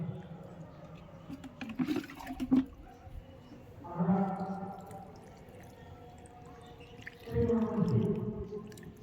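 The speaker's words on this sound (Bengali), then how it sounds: "এই যে চপ চপ করে আমি জল দিয়ে দিচ্ছি পুরো মাটিটা একদম পুরো ভিজে যাবে" Water pours onto soil in a rooftop garden pot where cauliflower and cabbage are grown, splashing in three separate gurgling bursts around 2, 4 and 8 seconds, with a voice speaking softly between pours.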